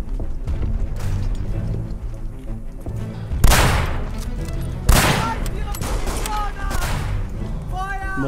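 Mortar blasts and rifle fire in the WW1 trench-warfare game Verdun, a steady crackle of distant shots broken by two heavy booms, with voices talking over the battle.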